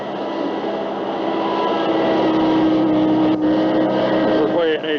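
Diesel dump truck engine working on 1985 New Zealand railway deviation earthworks between Ohakune and Horopito, a steady loud rumble with shifting pitch as the load changes, continuous throughout under faint background sound.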